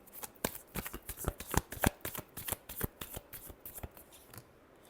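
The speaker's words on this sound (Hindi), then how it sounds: "Last shuffle." Tarot cards being shuffled by hand, a quick, close series of crisp riffling snaps, quiet and alone without speech.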